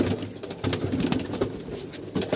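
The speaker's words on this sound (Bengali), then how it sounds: "এই কবুতরগুলো আমরা ছাড়তেছি" Pigeons being released outdoors coo in soft, repeated pulses, with faint flutters mixed through a steady background hiss and no voices.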